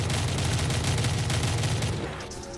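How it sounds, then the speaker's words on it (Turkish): Rapid sniper rifle fire in Call of Duty: Black Ops 3 Zombies, a dense, loud run of close shots crackling continuously for about two seconds before trailing off. "Ben uzaktan uzaktan snipe'lıyorum."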